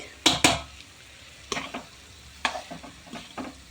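Semolina being stirred and roasted in ghee in a pan for jaggery rava laddu, heard as a few separate scraping stir strokes with a soft sizzle underneath, fairly quiet and with no talking.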